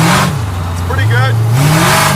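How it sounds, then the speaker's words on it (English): A 1940 Ford hot rod engine rumbles steadily while cruising, rising in pitch partway through as the car accelerates, loud and close, with a voice talking briefly over it. "Oh, the engine flops over a lot."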